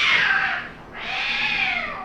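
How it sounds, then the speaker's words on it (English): Cats fight in a loud, close caterwaul. Two drawn-out, wavering yowls rise and fall with a short dip between them, heard alone with no talking. "cat fight."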